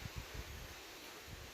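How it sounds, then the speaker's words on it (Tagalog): Strong morning wind buffets the microphone in low rumbling gusts, steady and close, with a rustling hiss spread over the whole moment and no voices. "lakas ng hangin eh"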